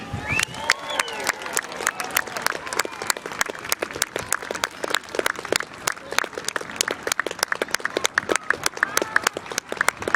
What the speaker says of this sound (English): A big round of applause for Her Majesty the Queen and Great Britain.